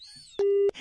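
After a phone call is hung up, a single steady busy-signal beep sounds loud and clear, briefly framed by a radio-style voice on either side.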